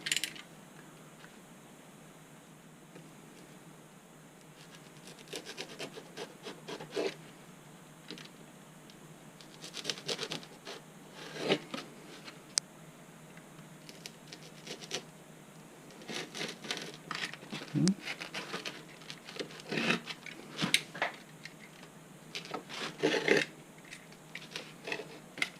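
Hand-cutting fairing pieces for a model aircraft, with scattered close snips, scratches and crinkles at an uneven pace. The sounds are sparse at first and grow busier toward the end, with no talking.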